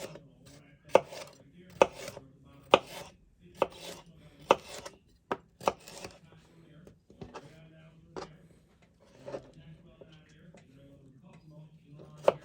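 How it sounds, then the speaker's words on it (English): A knife dices onion on a cutting board, sharp rhythmic knocks about once a second, with a low hum underneath and occasional softer cuts. "onion, I'm just going to dice them up."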